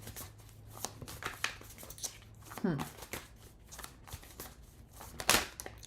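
Tarot cards riffle and slap together in short bursts, close and fairly soft, with brief pauses between shuffles.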